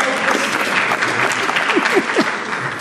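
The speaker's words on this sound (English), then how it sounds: "Give him a round of applause" Applause from the audience at a media industry festival panel in 2013, with a few voices or whoops cutting through the clapping as it carries on.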